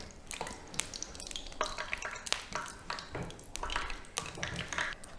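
Faworki dough pieces dropped into hot fat and frying, with irregular sizzling, light taps and clinks of utensils at close range, no voices.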